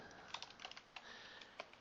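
Short burst of quiet, close typing on a computer keyboard, a quick irregular run of light key clicks with no talk.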